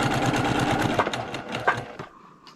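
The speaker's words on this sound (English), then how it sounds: "And then I should be able to stitch this" A sewing machine stitches an appliqué heart, its needle running in a fast, even, close-up rhythm, then slowing into a few separate stitches before stopping.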